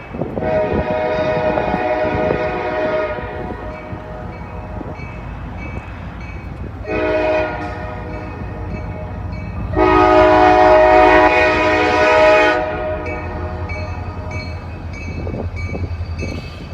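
A freight train rolling past on a cold, windy day, its horn sounding in several loud, sustained chord blasts over a continuous low rumble of wheels and wind.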